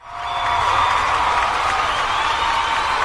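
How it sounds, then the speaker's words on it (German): Dense, steady applause from a crowd mixed with cheering and whoops, loud and close, held without pause for about three seconds. "Einmal bitte Applaus für ihn."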